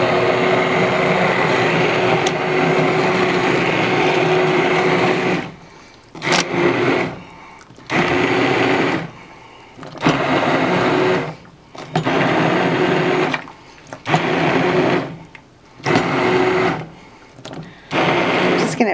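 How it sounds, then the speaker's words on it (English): An immersion blender purees tomato basil soup right in the pot, whirring loudly and steadily at first, then running in repeated short bursts separated by brief pauses. "If you don't have an immersion blender, like I have, you can go ahead and put it in a regular blender a little bit at a time."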